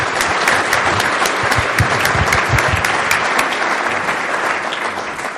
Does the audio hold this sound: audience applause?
yes